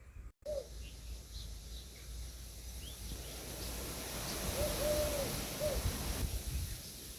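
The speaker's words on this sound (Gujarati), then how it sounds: "સાંભળ્યું ને કેવું બોલે છે હોલા, અલગ અલગ પ્રકારના." Doves call in the open, a few faint soft hooting notes spaced apart over steady background hiss, with brief rustling nearby.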